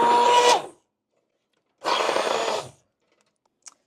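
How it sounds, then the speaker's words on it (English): Two loud bursts of immersion blender whirring through thick squash soup, each under a second long, separated by a pause, with a small clink at the end. "I'm going to use the immersion blender now and see where we're at"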